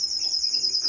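Pet finches and canaries in an aviary chirp steadily through the whole short stretch with a bright, continuous twittering song, close and clear, with no talk.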